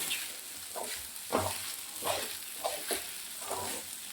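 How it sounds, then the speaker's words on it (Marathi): Sabudana mixed with peanut powder is stirred in a pan, with a spoon scraping in regular strokes about twice a second over a soft, steady sizzle, close by and with no talk. "शेंगदाण्याचा कूट तेवढा घालायचा आणि थोडं हलवायचं"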